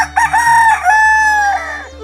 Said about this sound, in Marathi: कोंबड्याच्या आरवण्यानेच दिवसाची चाहूल लागते